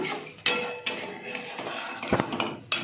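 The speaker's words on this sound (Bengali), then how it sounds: "আমি তো কন্টিনিউয়াস নাড়ছি" A spoon scrapes and knocks against a pot while fish korma is stirred, giving sharp, irregular metallic clinks and thuds over a low simmering background.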